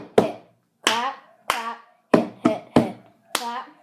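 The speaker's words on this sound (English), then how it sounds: "So it's clap, clap, hit, hit." Cup song rhythm played by hand: sharp hand claps alternating with hollow hits of a plastic cup on a table, seven crisp isolated strikes in a clear pattern.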